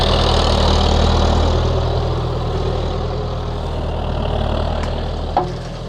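A tractor engine runs on a farm in central Portugal, a steady low diesel rumble close by that eases slightly in the middle, with a short knock near the end.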